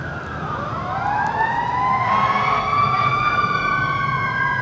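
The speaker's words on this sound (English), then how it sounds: "Oh cool, now we have ambulances." Wailing ambulance sirens sweep up and down in pitch, several overlapping, loud and close over traffic rumble, with no talking.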